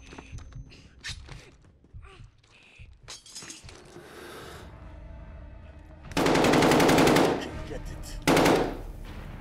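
Automatic gunfire from the video game Modern Warfare's campaign rattles out in two loud, dense bursts, preceded by scattered shots, glass breaking and short exclamations from a player.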